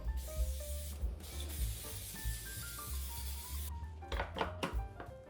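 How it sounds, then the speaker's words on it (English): Continuous hiss of cooking spray onto a cookie sheet lasting a few seconds, followed by a couple of short bursts, close by with a low hum underneath. "I'm gonna spray the cookie sheet because it just seems like the logical thing to do"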